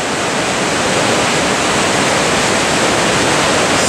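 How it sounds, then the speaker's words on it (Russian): The Belaya River rushes through a granite canyon in winter, a loud, dense, steady roar of churning water filling the whole scene without pause and with no voices. "Гранитный каньон реки Белая."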